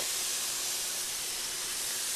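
Steady broadband hiss of meat sizzling on a grill that sprays water to keep flare-ups down, loud and unbroken throughout, with no voices.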